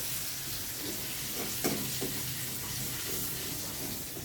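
Coriander leaves sizzle loudly in hot oil during the tempering for kadhi, a dense, steady crackling hiss close up with a couple of brief sharper spatters and no talk.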